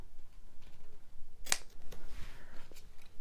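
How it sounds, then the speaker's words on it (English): Scissors trimming paper while making an altered-book junk journal: one sharp, fairly close snip stands out alone amid faint background rustle. "Let's just trim you like that."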